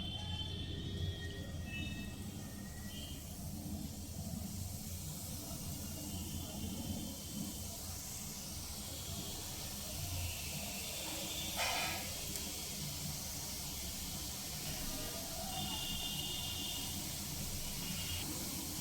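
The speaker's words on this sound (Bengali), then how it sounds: "গ্যাসের ফ্লেম লো মিডিয়ামের মাঝামাঝি রেখে গাঁঠিয়াগুলো ভেজে নিতে হবে।" Gathiya dough frying in hot white oil on a gas flame: a steady, soft hiss and sizzle that carries on throughout, with faint background noise.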